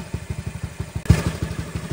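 A Yamaha Mio i 125 scooter engine runs close by in a fast, even putter, rising briefly with a sharp thump midway before settling back to its steady beat.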